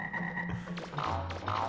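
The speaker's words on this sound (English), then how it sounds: "I have never been a fan of these frogs" Frog enemies in the video game Mega Man Legends 2 croak repeatedly over steady game background music, the low croaks coming in short bursts close up and loud.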